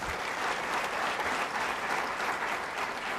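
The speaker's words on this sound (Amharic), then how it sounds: "እዚህ ሀገር ሰርተው ጀምረው ስለጨረሱ አጨብጭቡላቸው።" Sustained applause from an audience filling a hall at a film premiere, steady and dense throughout without breaks or voices.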